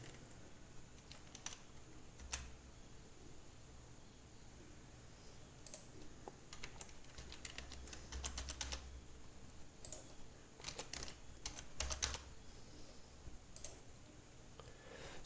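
Keys clatter on a computer keyboard while a name is typed into a software installation form, with short bursts of quick, light clicks separated by pauses, close and fairly quiet with no talking.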